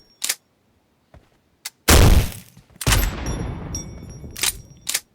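Gunfire from the mobile battle-royale shooter PUBG Mobile in Metro Royale mode: a short sharp shot, then two loud sustained bursts of fire with ringing tails, with a few smaller distant pops around them.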